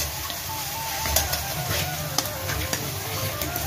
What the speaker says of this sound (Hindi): अब इसमें हम डालेंगे उबले हुए आलू।